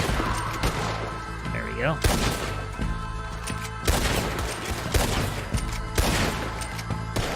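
Gunfire in Red Dead Redemption 2, with repeated sharp rifle and pistol shots in bursts over a steady game backdrop, and a voice speaking briefly between the volleys.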